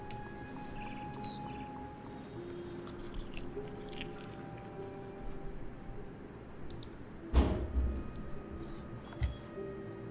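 Eating and chewing in the game What Remains of Edith Finch: soft wet bites, clicks and crunching squishes over a low ambient game background, with a louder cluster of chewing near the end.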